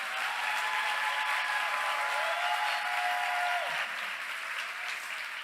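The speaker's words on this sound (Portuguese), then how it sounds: "Pode aplaudir o Senhor." A church congregation applauds steadily, a full even wash of clapping that holds at one level throughout, with no voices standing out.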